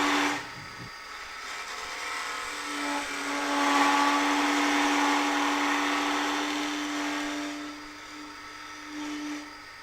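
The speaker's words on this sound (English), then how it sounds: "if too heavy a cut is taken, it can lead to vibration and chattering, as we can hear now" A wood lathe chatters and vibrates as a Robert Sorby multi-tip tool takes too heavy a shear-scraping cut, giving a loud, sustained whistling squeal with a strong tonal hum that swells and fades over ten seconds.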